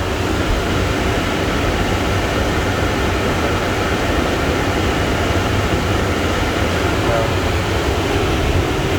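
Booyco air-conditioning blowers run on high inside an M915A1 truck cab, a loud, steady broadband rushing roar that holds constant throughout without a break.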